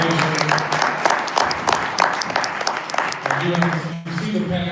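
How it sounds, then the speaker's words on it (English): An audience at a trustees' new-year tea gathering claps in a sustained round of applause, the dense patter running throughout while a voice speaks over it and a lower tone enters near the end. "let's give another round of applause for Ms. Pointer"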